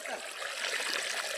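Hot water flowing at a natural hot spring pool in a scenic outdoor spot, a steady close trickling and rushing wash that stays fairly even across the short moment, with no voices over it.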